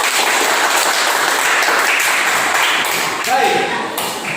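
Classroom applause during a school lesson: dense, steady clapping from a group of students, loud and continuous, with a few voices mixed in near the end.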